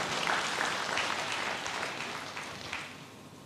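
A church congregation applauds enthusiastically for God, a broad even wash of many hands clapping that holds steady and tapers slightly toward the end.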